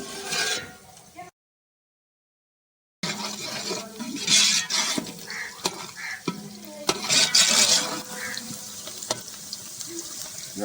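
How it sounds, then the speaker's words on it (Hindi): Onions fry and get stirred in a pan while fish curry is being cooked, giving steady sizzling with scraping stir strokes and splashy bursts. A short silent gap breaks the sound early on. "प्याज को थोड़ा सा भून लेते हैं"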